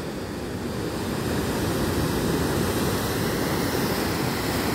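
Ocean waves break at Santa Cruz on a surf day, a dense, continuous roar of surf, loud and steady throughout.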